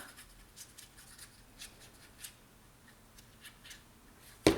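Scissors snip a bevel into the tip of a paper glue strip for a Christmas pop-up scrapbook album, giving soft, quiet cutting rustles and ending in one sharper close snip.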